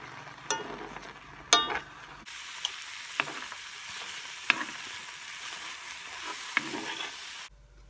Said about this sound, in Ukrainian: спочатку я їх смажу на сухій сковорідці